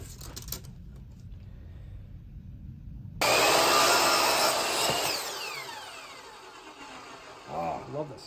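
A power saw cuts a cedar board in a workshop: a sudden loud high whine with a harsh cutting rasp lasts a couple of seconds, then winds down, with quiet speech before and after.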